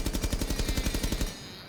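Thermite's gun in Rainbow Six Siege firing a quick string of about a dozen loud, evenly spaced shots, moderately fast, then stopping with a brief decaying echo.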